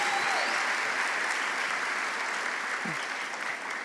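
Sustained audience applause fills a church hall, steady and dense throughout, with a slight easing toward the end as the clapping crowd welcomes a speaker.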